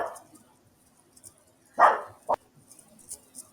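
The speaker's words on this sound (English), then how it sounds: "Sorry, my dog's really loud." A pet dog gives two loud, close barks, a long one followed by a short sharp one, breaking into otherwise quiet room sound.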